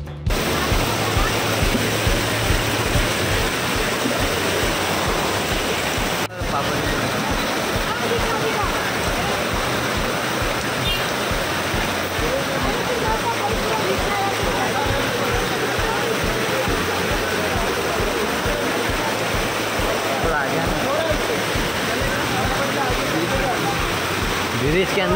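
Rainwater rushes through flooded streets in Mumbra, a constant loud, close watery roar that runs unbroken throughout, with a single brief thump early on.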